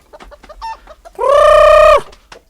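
A chicken gives short clucks, then one long, loud, strained call, heard close in a quiet farm setting, followed by a few more soft clucks.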